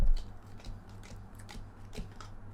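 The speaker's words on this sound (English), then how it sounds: "Alright, we're shuffling Cloud's deck and we will start a game." Magic: the Gathering card deck shuffled by hand: a few quick, close riffling snaps in an uneven rhythm over a low hum, with no talking.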